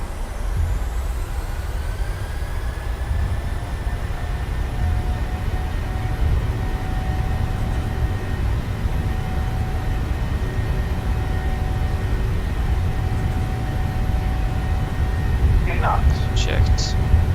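PMDG 737-800 engines at takeoff thrust in MSFS2020 hold a steady, loud roar with a deep rumble and a faint rising whine, continuous throughout, with brief high chirps near the end.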